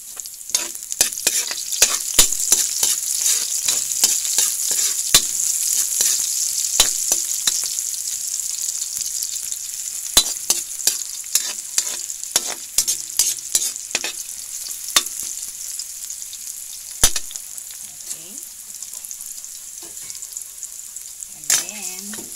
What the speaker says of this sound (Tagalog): Pag medyo nagba-brown na po yung ating bawang, pwede na po natin ilagay ang sibuyas.